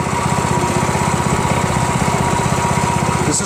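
A Predator 212cc 6.5 horsepower overhead-valve gas engine, freshly filled with synthetic 5W30 oil, runs at a steady idle with a rapid, even chugging pulse, loud and close, with nobody talking.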